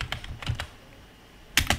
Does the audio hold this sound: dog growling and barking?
no